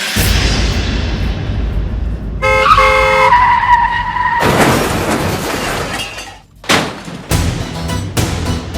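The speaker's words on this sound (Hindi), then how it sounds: "हे भगवान, नहीं, आपने मेरी गाड़ी ठोक दी।" A car skids and crashes into another parked car in a Hindi TV comedy-drama street scene, with a loud burst of screeching and impact noise followed by scattered crunching and shattering.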